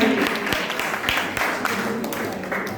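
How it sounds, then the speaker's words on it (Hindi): Audience applause at an Independence Day (15 August) motivational speech, a steady wash of clapping lasting the whole stretch with a few sharper claps poking through, heard from within the crowd. "आपका ताली भी चाहिए"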